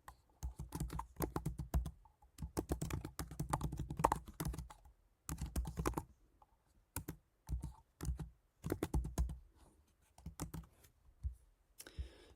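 Code being typed on a computer keyboard in quick bursts of clicking keystrokes separated by short pauses, close and fairly quiet, with no talk.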